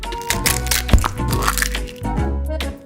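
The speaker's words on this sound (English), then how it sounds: "And now, I'll break an egg into a bowl with flour." An egg cracked against a bowl and dropped onto sifted flour: one sharp crack near the middle over a steady low hum, with light crinkly handling noise around it, close and fairly loud.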